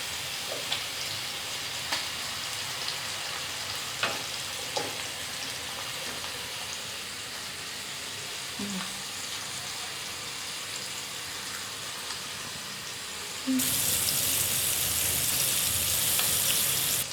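Tandoori chicken pieces frying in a pan over a high flame, a steady broad sizzle with a few faint clicks, jumping suddenly louder and harsher about three quarters through.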